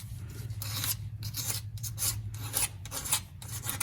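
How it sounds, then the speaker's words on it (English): Razor blade scraping old gasket residue off a Jeep JK differential cover, a repeated rasping stroke about eight times in quick rhythm, close and fairly loud over a low steady hum. "if you take and scrape backwards,"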